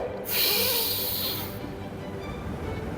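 One long, close inhale during a spinal mobility exercise, breathy and hissing for over a second, then fading into a quiet room.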